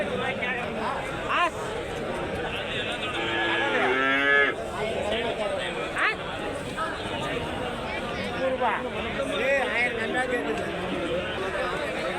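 Calves and cattle moo repeatedly amid a busy crowd of chattering voices at a livestock market in Karimangalam, Dharmapuri, with animals calling near and far over steady background hubbub.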